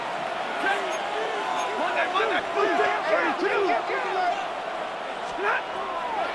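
Stadium crowd noise in the Madden 26 video game during a Rams vs Jets game on 3rd down: a steady, loud roar that swells slightly, with a commentator talking over it throughout.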